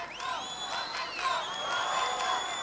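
A crowd of spectators at a 1977 Jeux Sans Frontieres game in Ludwigsburg, Germany, cheers and whoops steadily from a distance, with shrill whistles rising above the noise, under a commentator's voice.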